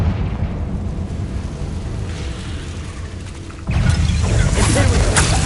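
A Confringo fire spell in Hogwarts Legacy bursts into a sudden loud explosive blast partway through, over a continuous rumbling game soundscape.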